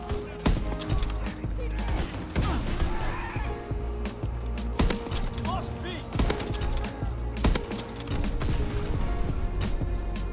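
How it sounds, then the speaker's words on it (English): Ballista sniper rifle firing in a World War II–era Call of Duty match on the Nuketown map: several sharp, punchy shots at irregular intervals over busy game sounds, with a player speaking now and then. "the shots are so nice"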